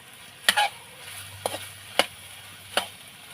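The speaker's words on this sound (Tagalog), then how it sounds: "kailangan natin siyang haluin ng haluin hanggang sa kumapit na yung sarsa niya" Pork menudo being stirred in a pan as its sauce thickens: four distinct utensil scrapes and clacks spaced about a second apart over a quiet, low simmer.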